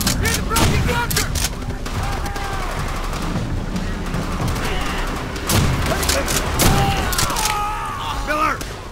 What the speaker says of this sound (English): Machine gun! Near the broken bunker!